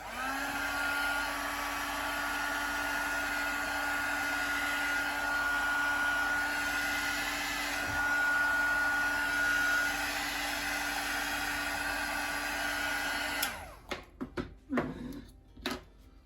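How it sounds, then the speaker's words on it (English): Heat gun blowing on a paper flower held with tweezers: a loud, steady whooshing blower with a constant motor whine runs for about thirteen seconds, then cuts off, leaving a few clicks and handling sounds. "I'm going to use my heat gun."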